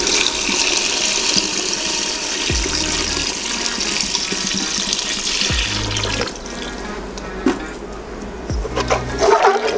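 Water is poured into a pot for mushroom biryani, about 300 ml for 200 g of rice, making a steady rushing splash that fills the whole stretch with no voices.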